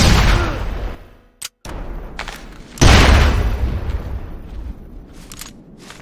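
An explosion in the video game SOCOM U.S. Navy SEALs Fireteam Bravo 3: an opening blast fades away, followed by brief pops, then a second heavy boom that trails off into a rumbling decay.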